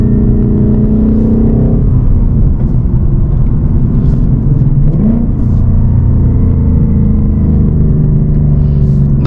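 A 2024 Ford Mustang S650 engine heard from inside, droning loudly, then its revs dip and swell again through a gear change, with a deep rumbling tone rising and falling.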